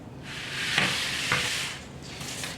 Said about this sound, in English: You'll see them start to sizzle.